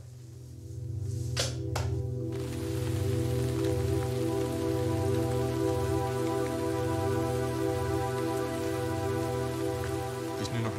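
Rain falls steadily on a surface in cold weather just above freezing, a dense continuous patter heard close and fairly loud, with a couple of sharp knocks near the start.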